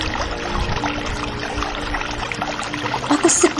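River water flowing steadily in an Indonesian radio drama about the origin of Coban Rondo waterfall, a continuous close wash of trickling and pouring water filling the whole clip, with a few brief brighter splashes near the end.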